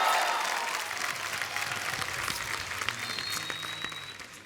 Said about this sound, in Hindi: आप सबकी जोरदार तालियों के बीच उनको यहां बुलाते हैं